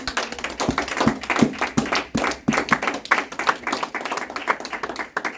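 A church congregation claps together to acclaim the king, a dense, lively run of many hands clapping, close and continuous, with no talking over it.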